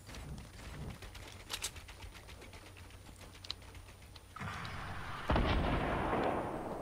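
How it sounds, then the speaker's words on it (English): Rocket launcher explosions in the video game Fortnite: a run of sharp gunfire-like bursts gives way to two loud, broad booming blasts near the end, with no talking. "You would use a rocket launcher to kill some kid."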